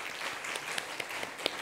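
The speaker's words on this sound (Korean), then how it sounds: "우리 박수로 환영하겠습니다." A church congregation at a Sunday morning service gives warm, steady applause to welcome a visitor, a few sharper claps popping out over the sustained clapping, with no speech.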